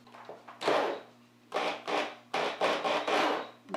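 Bolts being driven a little at a time through a scrap-wood floating shelf, giving several close rasping, scraping bursts of wood and metal friction separated by short pauses.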